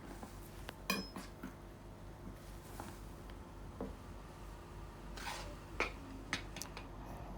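A spoon stirs flour into a foamy mixture in a bowl, with soft, irregular scraping and a few light clinks against the bowl, close and fairly quiet.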